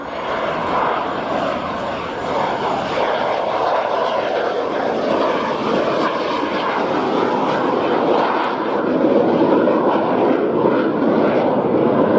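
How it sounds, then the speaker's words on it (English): Zephyr jet aircraft passing at an air display with undercarriage and arrestor hook down, alongside a second jet, a loud steady roaring engine drone that swells slightly toward the end of the pass. "Another chance to see the two jets coming through."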